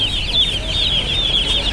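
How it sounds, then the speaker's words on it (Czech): Several chickens cluck continuously at close range, a busy, steady chatter of short calls with no pauses and no human voices. "kuřata"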